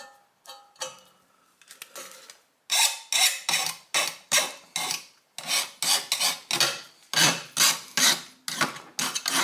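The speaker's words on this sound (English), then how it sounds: "It's really hard to file the edge of sheet metal like this." A file rasping along the edge of sheet metal during a stereo install on a 1977 Camaro Z28: a few lighter tentative strokes, then a dozen loud, close, rhythmic scraping passes with short pauses between them.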